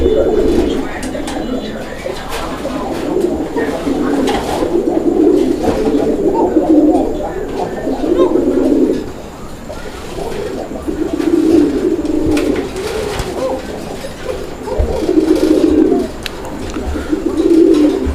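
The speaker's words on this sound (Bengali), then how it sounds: "এখানে চমৎকার একজোড়া কোকা কবুতর রয়েছে" A pair of Koka pigeons coo in repeated low, throaty rounds, several overlapping phrases rising and falling close by, with background chatter from other birds.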